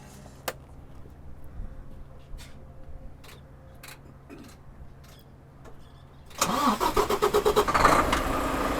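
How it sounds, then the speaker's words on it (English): A truck's engine cranks and catches about six seconds in, then settles into a loud, rumbling idle, after quiet clicks and faint background noise during a roadside inspection. "We're going to have the driver go ahead and start the truck up."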